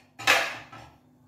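A metal spoon scrapes and clinks against a plate while pumpkin curry is served, a single close, bright clatter followed by a softer second scrape as it fades out.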